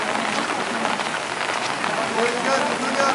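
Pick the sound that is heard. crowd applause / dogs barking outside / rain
rain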